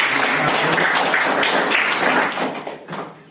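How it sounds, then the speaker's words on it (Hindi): Dense, steady applause from a crowd at a primary school event in Kokodi, clapping continuously and fading slightly toward the end. "उनके लिए जोरदार तालियां बजा दी जाए।"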